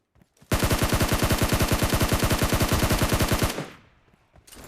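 Rapid automatic gunfire rattles loud and close in a shooter video game during a heavy fight, a steady burst of evenly spaced shots lasting about three seconds before cutting off into quieter game ambience.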